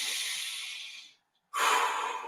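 Slow, deep breaths for a mindfulness exercise: a long, airy exhale fades out, a short silence follows, then a strong inhale rushes in, close and clearly audible with no talking.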